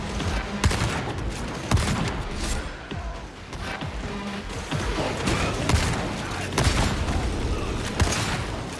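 Dense, continuous shotgun blasts and booms from a firefight in the video game Warhammer 40K: Darktide, rapid overlapping shots with crashes throughout, loud and close.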